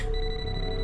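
A mobile phone ringtone chimes in a quiet room, a short electronic tone with steady bright pitches, heard alone and fairly close.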